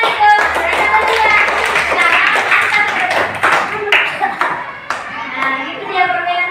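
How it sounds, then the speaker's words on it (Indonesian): Classroom students clapping hands during an Islamic religious education lesson, a short scatter of uneven claps close by, mixed with children's voices and a teacher talking over the top. "Tepuk tangan itu."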